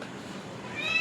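A house cat meows once on a rooftop terrace, a short, fairly close cry rising toward the end of the moment, with faint background noise and a hint of voice.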